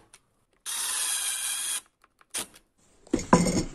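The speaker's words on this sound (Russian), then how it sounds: "Теперь берем и накручиваем саморезы." A power driver sinks black self-tapping screws into a wooden board, one long buzzing whir followed by short bursts and a final grinding drive, with silent pauses between.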